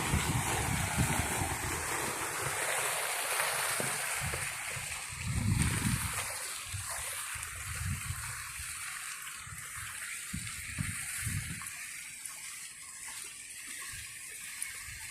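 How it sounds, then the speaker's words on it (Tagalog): A water fountain splashes continuously in a steady, broad wash, with low gurgling surges rising and falling beneath it, heard close and fairly quiet with no voices. "Fountain. Ayan, ganda."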